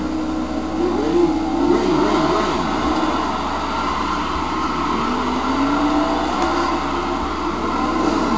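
Race car engines roar at the start of a NASCAR Heat video game race at Sears Point, a loud continuous drone with rising and falling revving pitch over about eight seconds, with no voices.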